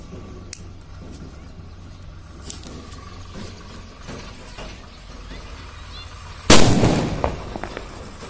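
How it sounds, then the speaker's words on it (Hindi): A small sutli bomb firecracker taped onto a coconut bursts with a single loud, sharp bang, preceded by quiet background crackle and a few faint pops, then fading debris and echo. "छोटे वाले सूतली बम को कोकोनट के ऊपर चिपका देते हैं और टेप की सहायता से उसको लगा देते हैं"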